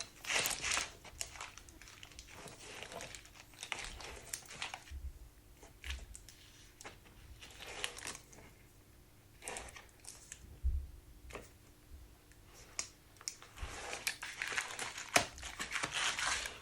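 Wax paper backing peeled from double-sided sticky tape during a 2011 BMW F11 rear carpet water leak repair, crinkling and crackling in repeated bursts up close, with short quiet gaps and no talk.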